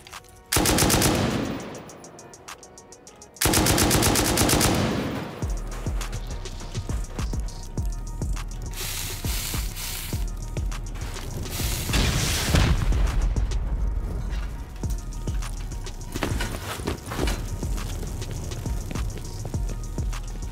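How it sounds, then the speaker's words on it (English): A shotgun trap in a video game fires a series of loud, close blasts, with two sharp bursts up front followed by dense rapid gunfire and booming impacts that continue throughout. "Ooh, okay, shotgun trap facing sideways. We'll start insetting it off from here on out."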